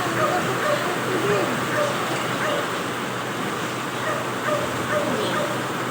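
Dogs yip and whimper faintly amid outdoor background noise, with scattered short barks at a distance, during typhoon flooding in a village.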